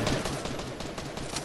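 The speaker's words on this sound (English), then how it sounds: "they are shooting right next to me" Gunfire in the video game Fortnite rattles in a dense, continuous burst of overlapping shots, loud and close, with no pause.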